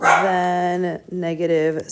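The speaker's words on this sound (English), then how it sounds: "Sorry about my dog." A dog barks and yips indoors in a home, two loud sharp bursts separated by a short gap, heard close by under and between a person's speech.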